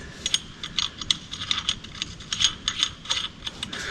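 Ratchet snugging down a power steering pump bolt on a V8-swapped S10, a close run of quick metallic pawl clicks in short uneven bursts.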